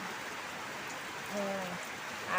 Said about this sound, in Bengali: এই যে চারিদিকে বৃষ্টি দেখো